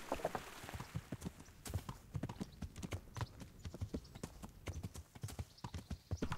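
Hooves of a horse ridden at a steady trot in Kingdom Come Deliverance patter in a close, continuous run of sharp beats.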